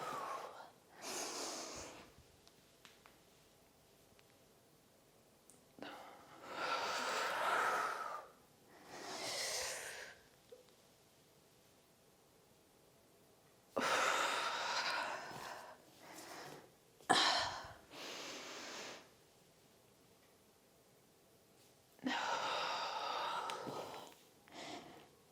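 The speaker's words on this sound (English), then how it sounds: "starting our warm-up just with some really big inhales" Slow, deep breaths during a follow-along cardio warm-up: several long audible inhales and exhales, each lasting a few seconds, separated by quiet pauses, close and breathy with no speech.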